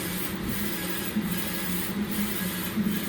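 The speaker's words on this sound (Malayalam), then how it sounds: "അതിപ്പോ അതേ പ്രിന്റ് ചെയ്ത് വന്നുകൊണ്ടിരിക്കുന്നുണ്ട്" A printer printing a design gives off a soft, steady rubbing whir with faint regular pulses about every second as the print head sweeps back and forth, heard close and alone.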